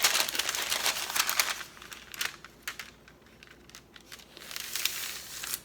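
An adhesive cover sheet peeled back from a diamond painting canvas, a soft crackling, crinkling rustle in uneven bursts, close and fairly quiet.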